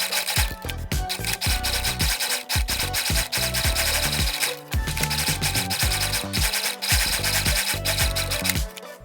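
Corset panel seams being stitched on a sewing machine, a close, loud run of rapid mechanical chatter broken by short pauses and restarts.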